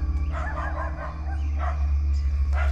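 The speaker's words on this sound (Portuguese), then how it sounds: "É passarinho, ué. Passarinho, parece gemido." Faint chirping bird calls, a few short repeated notes over a steady low hum.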